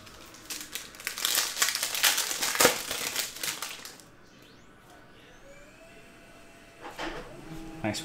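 A 2019 Prizm football hobby card pack is torn open up close, giving a few seconds of loud crinkling foil and ripping, then a near-quiet pause before a brief final rustle.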